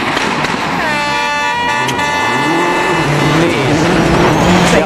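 A 2004 Peugeot WRC rally car, suffering transmission trouble, racing on a stage of Wales Rally GB, a loud engine rising and falling through gear changes as it passes close, with a horn-like blare at the start.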